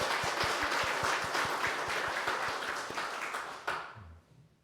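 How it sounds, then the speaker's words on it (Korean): A church congregation claps to encourage the children during a Sunday worship service, steady applause with distinct hand claps that fades out near the end. "우리 아이들을 격려하면서 박수 한번 하겠습니다"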